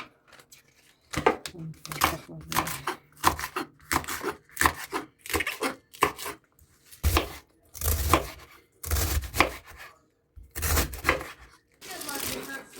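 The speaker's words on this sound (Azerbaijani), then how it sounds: "Kələmi bu formada doğrayıram." A knife chops fresh cabbage for a pickle in a series of crisp, crunchy cuts in uneven bursts, some louder strokes standing out, with quiet gaps between them.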